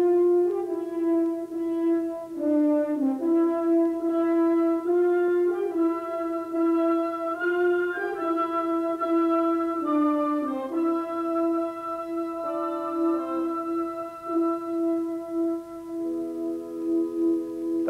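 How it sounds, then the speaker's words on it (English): An orchestra plays the solemn, majestic Phrygian-mode phrase from the slow movement of Brahms's Fourth Symphony, a sustained, steady melodic line with soft accompaniment that carries on unbroken and fairly quiet with no talking. "That's the sound of the Phrygian mode, courtesy of Mr. Brahms."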